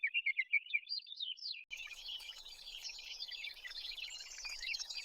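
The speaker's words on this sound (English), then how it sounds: "A baby bird! It must have fallen from its nest." A fallen baby bird gives a run of high, thin chirps that repeat in quick rhythm, close and faint, followed by a busier stretch of overlapping bird tweets against a quiet background.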